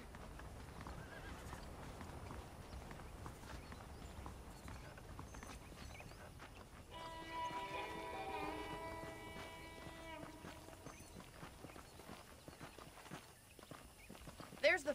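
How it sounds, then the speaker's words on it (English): Hooves clip-clop steadily as horses walk through a town in the video game Red Dead Redemption on PS5, with a neigh partway through and voices talking over it. "The horses are saddled up over here."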